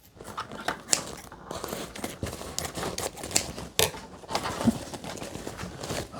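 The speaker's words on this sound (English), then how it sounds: "let's cut a bag open" Scissors snip through a generic replacement dust bag for a Narwal Freo Z robot vacuum and mop, a close run of irregular crinkling cuts and paper tearing with no talk.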